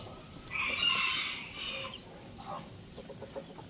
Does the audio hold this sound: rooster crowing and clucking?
yes